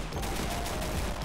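Rapid, dense gunfire from the mobile shooter game Modern Ops fills the whole short stretch as a continuous loud burst of overlapping shots, with no talk over it.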